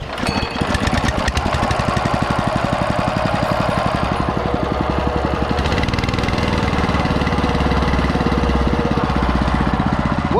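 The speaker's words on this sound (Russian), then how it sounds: "Вот что значит, когда все исправно. Заводится с полпендаля." A Champion BC5712 motor cultivator engine starts up, quickly settling into a loud, close, steady rapid chugging putter that continues throughout, with no talk.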